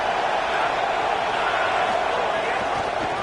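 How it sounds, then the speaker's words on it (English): Stadium crowd noise in the College Football 27 video game, a dense, constant roar of a packed stadium that holds at an even, loud level throughout. "This crowd bringing the energy and noise early."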